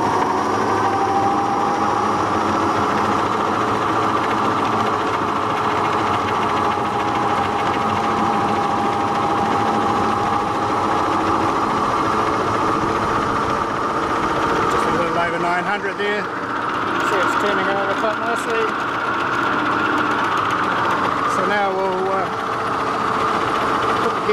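An electric tractor motor runs at about 800 to 900 RPM during a mowing test, a steady near hum with a high whine that stays constant throughout, with brief rattling changes toward the end.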